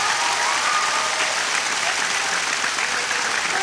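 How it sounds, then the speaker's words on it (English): Arena crowd at an ITTF World Team 2022 table tennis match between Wang Chuqin and Kristian Karlsson erupts in loud, sustained cheering and applause, a dense roar holding steady throughout. "Oohs and ahs from the crowd,"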